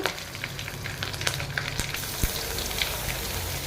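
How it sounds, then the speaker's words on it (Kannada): Cumin, mustard seeds, curry leaves and asafoetida fry in hot oil for a North Karnataka-style girmit tempering. A close, steady sizzle with scattered crackles and pops runs throughout, with no talk. "ಹಸಿಮೆಣಸಿನ್ಕಾಯಿ ಹಾಕಿದ್ದೀನಿ ಎಲ್ಲ ಬಾಡಿಸ್ಕೋಬೇಕು"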